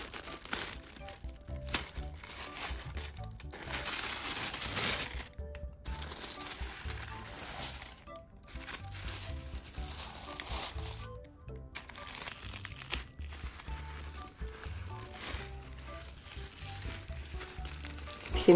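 Paper and cellophane wrapping crinkle and rustle in bursts while a new Chanel bag is unpacked, with short quiet pauses between handling sounds, close and fairly soft.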